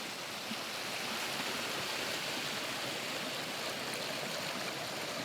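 A stream flowing through dense forest in the Gorumahisani mountain range, a continuous steady rush of water, evenly loud and close throughout with no voices.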